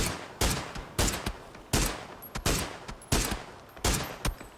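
Gunfire in a PUBG pro match: seven or eight sharp, loud single shots at a steady, slightly uneven pace, each cracking out and then decaying. There is no talk.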